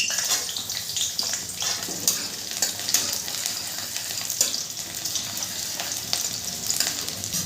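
Chopped garlic sizzles in oil and ghee after dried red chillies, a continuous, fairly close hiss with small crackles and intermittent stirring scrapes, no voices.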